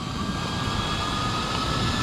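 A small FPV drone hovers and sets down, its propellers giving a steady, close buzzing whine with a constant pitch throughout.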